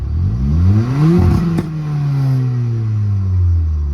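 A remapped 2017 VW Polo GT 1.2 TSI with a crackle overrun tune, revving up sharply close by, a pop or crackle at the peak, then the revs falling steadily back toward idle.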